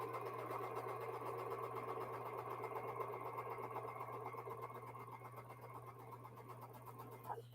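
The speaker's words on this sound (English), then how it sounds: "we start by sewing our long end of our bricks" A sewing machine chain-pieces jelly roll fabric strips into brick blocks, running in one continuous, even, rapid stitching hum at close range with a low steady drone beneath.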